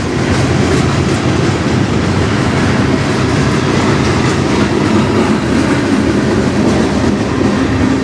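A long CN freight train rolls past at close range in Sarnia, Ontario, its end cars going by with steady loud rumble and clickety-clack of wheels over rail joints, no voices.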